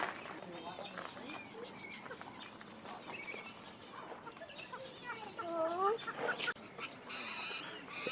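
Birds clucking and calling inside an aviary at a bird centre in Canberra, Australia, a steady busy chorus of chirps and fowl-like clucks close by, with children and adults talking over it throughout.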